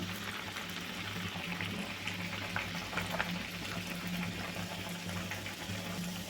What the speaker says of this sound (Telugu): వేడి వేడి ఆయిల్లో మీడియం సైజులో పెట్టి మీడియం ఫ్లేమ్లో పెట్టుకొని అయితే వేసేసుకోవాలండి